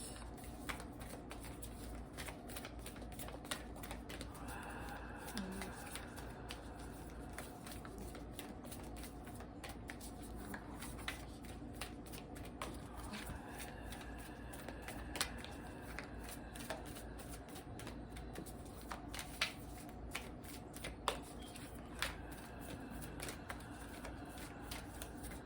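Tarot spell cards being shuffled by hand, a steady run of soft riffling and flicking card taps over about twenty-five seconds, close and fairly quiet with no talking.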